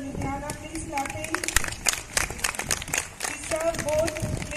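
An audience at an alumni function clapping in a dense, ongoing patter while a voice speaks over it.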